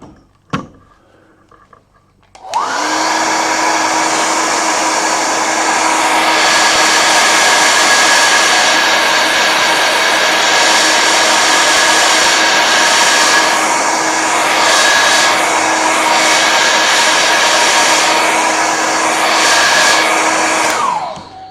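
A hair dryer blowing steadily over a wet painting of a Caribbean beach scene, switching on with a click after a quiet start, then a loud continuous whine and rush of air with slight wavering, no talking.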